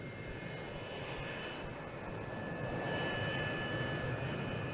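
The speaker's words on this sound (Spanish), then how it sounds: "Este es el YB-49 de 8 motores en bloque." Northrop YB-49 eight-engine flying wing aircraft droning steadily in flight, a continuous loud jet-engine roar with a faint whine, swelling slightly toward the end.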